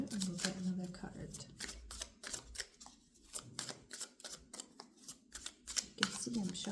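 Quick papery riffles and snaps of cards being shuffled, in short repeated bursts, close by with occasional quiet talking.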